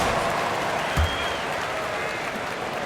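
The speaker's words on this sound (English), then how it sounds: "Give them a round of applause" Arena crowd at an NBA game between the Oklahoma City Thunder and Milwaukee Bucks applauds in a dense, continuous roar of clapping, broad and steady throughout.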